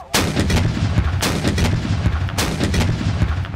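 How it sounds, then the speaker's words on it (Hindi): Ceremonial 21-gun artillery salute at Nur Khan airbase, greeting an arriving aircraft: loud booming cannon reports with long rumbling tails, at least two big blasts standing out over continuous low rumble and echo. "नूर खान एयरबेस पर लैंडिंग होते ही 21 तोपों की सलामी दी गई।"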